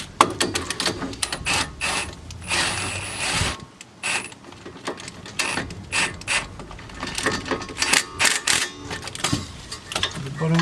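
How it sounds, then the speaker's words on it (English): A pneumatic rattle gun spins wheel nuts onto a car hub with a 17 mm socket, in loud rapid hammering bursts that start and stop repeatedly at close range. "So I'll just put it on the rattle gun."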